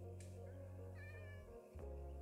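Orange cat in the Minecraft video game meowing, a drawn-out whiny meow followed by a short second call over steady low game background noise.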